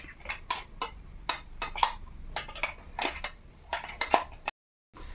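Spoon stirring garlic spice paste into potatoes in a cooking pan: repeated metallic clinks and scrapes in an irregular rhythm, close and moderately loud, with a brief silent gap near the end.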